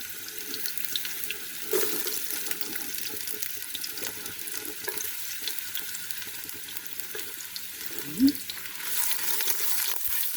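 Ginger and garlic being sautéed in a pan, a steady low sizzle with faint scraping and stirring clatter, mixed with running-water-like hiss and a few knocks, no talking.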